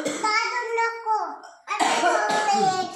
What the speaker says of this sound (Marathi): खोकला येतो आता.